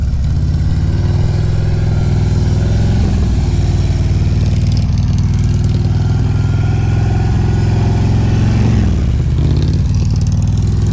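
An old biker's motorcycle engine runs close and loud with a steady low throbbing idle, the throttle held a little high, swelling briefly in revs around the middle and again near the end before settling back.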